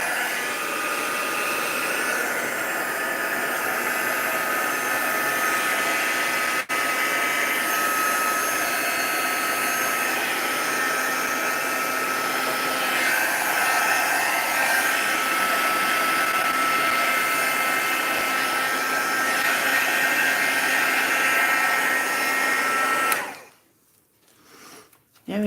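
A Crafters Choice heat tool blowing air up close, a steady loud whooshing drone that holds evenly for over twenty seconds before switching off abruptly near the end.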